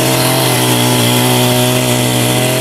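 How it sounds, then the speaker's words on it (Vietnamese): A chainsaw runs loud and steady at high revs cutting a tree, its buzzing motor droning without a break as it cuts. "cái này cưa máy luôn nhỉ?"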